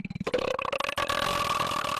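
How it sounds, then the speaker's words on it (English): A long, loud deliberate burp rolls out close to the microphone after a few short gurgling croaks, stretched into a sustained voiced belch. "I'm more surprised you could burp on command, let alone talk while doing it."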